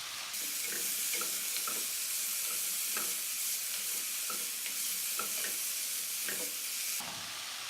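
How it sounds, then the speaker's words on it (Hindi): Chicken frying in a pan with capsicum, onion and green chillies, an even, soft sizzle with regular spatula scrapes and taps, steady throughout and then cutting off near the end. "फिर इसमें शिमला मिर्च, प्याज और सब्ज़ मिर्चें डालकर 2-3 मिनट फ्राई करें।"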